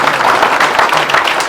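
An audience claps together at a Madurai humour club's 34th annual celebration, a dense, loud, continuous wash of applause with no break across the short span.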